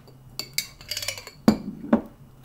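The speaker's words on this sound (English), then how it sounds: "you can use the bottom of the spoon to spread it." A metal spoon spreading pizza sauce over bagel halves, clinking and scraping on a dish with a few light taps and two sharper knocks, close and alone.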